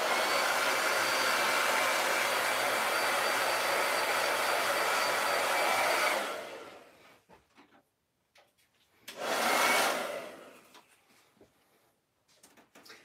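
A hair dryer blows over chalk paste on a silkscreen, a loud steady whoosh for about six seconds that cuts off, then one short burst follows before quiet.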